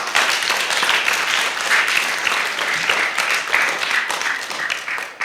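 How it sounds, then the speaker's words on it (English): An audience breaks into sustained applause at a Gambian spelling and mathematics competition, dense clapping filling the hall steadily and loudly for several seconds without a pause. "Can't we clap for Take?"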